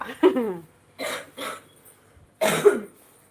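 Several short coughs in a sequence: one harsh cough, a pair of lighter coughs, then a final stronger cough, close and in a quiet room.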